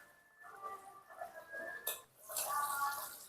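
Metal pan of fish curry on a gas stove being covered with a lid, a few light clinks and scrapes of metal on metal, close and moderately loud with short gaps.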